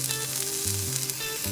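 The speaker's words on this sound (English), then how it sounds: "Now we need to fry it on the other side." Bread frying in a pan on its second side, a steady close sizzle and crackle with a faint hum running underneath, continuous throughout with no voices.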